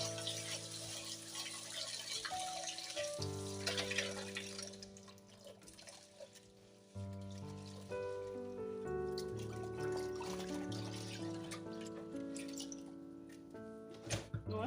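Raw rice being rinsed in water before cooking gives faint splashing and trickling, quiet beneath a louder background of steady music.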